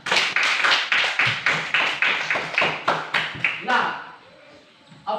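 Children in a classroom lesson clap their hands together in a brisk, regular rhythmic pattern of about a dozen strong beats, then it loosens and fades into quieter scattered sounds, with voices mixed in.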